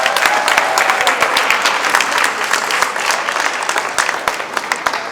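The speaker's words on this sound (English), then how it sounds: "You guys should clap for yourselves." An audience at a Fela event claps steadily for several seconds, dense and fairly loud, with the clapping easing slightly toward the end.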